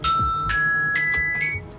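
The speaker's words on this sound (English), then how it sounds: "Okay, that's my alarm." An alarm chimes in a quick series of bright, ringing tones, repeated about every half second, close and clear with nothing else underneath.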